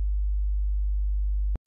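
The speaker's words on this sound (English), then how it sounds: "the signal generator is set at arbitrary frequency" A signal generator puts out a 50 Hz sine tone, a steady, very deep hum that holds unchanging for about a second and a half before cutting off abruptly with a small click.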